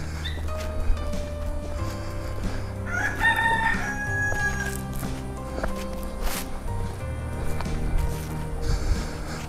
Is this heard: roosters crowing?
yes